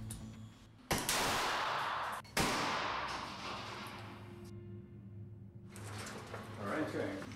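Two sharp, loud reports from a gun fired in a ballistic test on a breast implant crack about a second apart, each leaving a noisy decay before quieter indoor rustling takes over.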